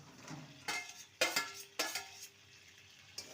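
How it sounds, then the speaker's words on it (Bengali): Fried potato and jackfruit pieces dropped into a sizzling spice paste, a few bursts of crackling sizzle with faint clinks of utensil on the pan, fairly quiet and close, with no talking. "এবার ভেজে রাখা আলু আর এঁচড়ের টুকরোগুলো দিয়ে দেবো"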